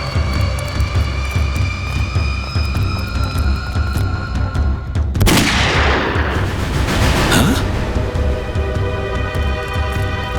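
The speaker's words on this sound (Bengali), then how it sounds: "গুলি চলার শব্দ।" A gunfire sound effect from a CID crime drama episode: a droning background is broken midway by a sharp burst of shots, then a second blast a couple of seconds later that rings out and fades.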